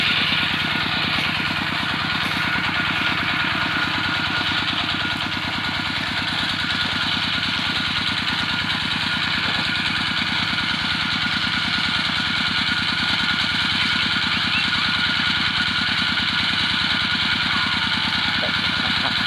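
A small motor runs at a steady idle in a durian orchard, a loud, continuous mid-pitched chug with constant vibration and no pauses, close by.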